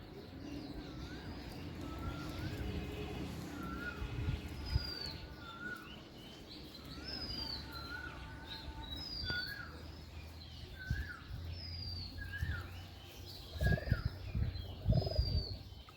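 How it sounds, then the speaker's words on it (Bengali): White pigeons being bathed with potash while sick coo and call repeatedly, soft rising whistling notes scattered throughout, with a few low thumps and rustles near the end. "সাদা কবুতর"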